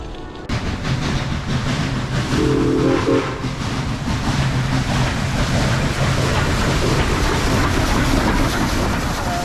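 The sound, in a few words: passing train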